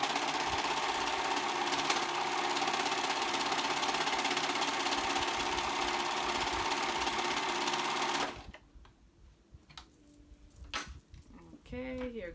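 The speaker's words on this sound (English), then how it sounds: "And then I just grab it and serge." A serger overlock sewing machine stitches a tee in a fast, steady whir for about eight seconds, then stops, leaving quieter handling of fabric and a voice speaking.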